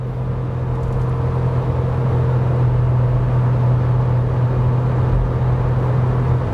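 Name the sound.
Nissan Note accelerating at full throttle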